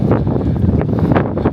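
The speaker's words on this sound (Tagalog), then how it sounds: "Ayan, mahangin." Gusty wind buffets a microphone outdoors on a morning bus commute, a loud, rough rumble with brief flurries and no talking.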